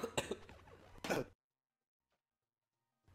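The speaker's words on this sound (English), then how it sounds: "Sorry, I'm coughing." A couple of short, harsh coughs up close, followed by near silence.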